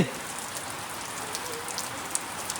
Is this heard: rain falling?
yes